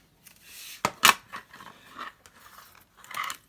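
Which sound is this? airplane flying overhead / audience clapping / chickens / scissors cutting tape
scissors cutting tape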